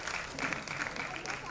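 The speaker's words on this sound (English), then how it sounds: "A big round of applause for her." Audience applauds at a women's empowerment award ceremony, a brief, even wash of clapping from a crowd, fairly distant and soft.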